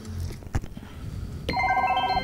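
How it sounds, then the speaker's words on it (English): A wristwatch rings in the Rick and Morty VR game, a steady electronic ringing tone that starts abruptly after some muffled game noise and keeps sounding. "Your watch is ringing, mate."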